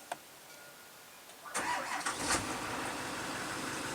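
A school bus with about 100,000 miles, mid-conversion to a skoolie with seats removed, cranks briefly after near silence and starts, then settles into a steady close engine idle.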